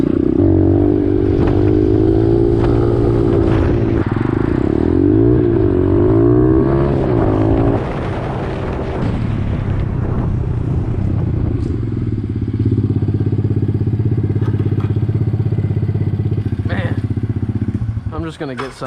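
Pit bike ridden hard on a cold late-season day, its small engine revving and wavering in pitch through wheelies, loud and close throughout with voices heard over it.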